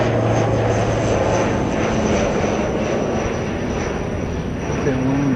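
Fixed-wing aircraft engine roaring steadily and loudly at an airport during plane spotting, a continuous broadband rumble with a faint high whine, heard at a distance without much change over several seconds.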